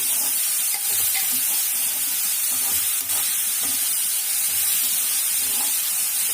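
Ground masala with tomato is sautéed for a crab gravy, a loud continuous sizzle and hiss close by with intermittent stirring scrapes.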